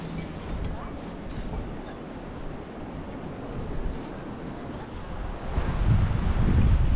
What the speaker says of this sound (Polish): Wieje dzisiaj strasznie, jest zimno